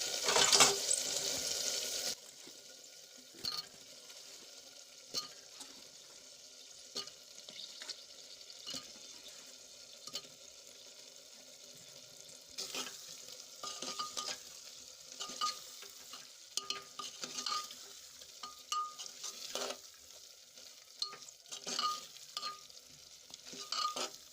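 Steady sizzling of muthiya dumplings frying in a green gravy in a pan, with repeated scraping and stirring of a spoon throughout, louder at the start.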